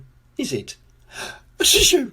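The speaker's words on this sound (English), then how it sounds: "The sound of a sneeze is very common indeed in Coldland" A single loud sneeze in a storytelling piece about a character named Mr. Sneeze, short intake of breath then a sharp burst at the end, with brief speech just before it.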